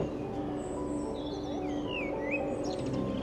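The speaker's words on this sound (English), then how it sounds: "I love the bird sound." Small birds chirp and trill with short high calls over a steady low hum of ambient noise outdoors in spring in Ascona, Switzerland, where camellias bloom, the calls faint to moderate and scattered.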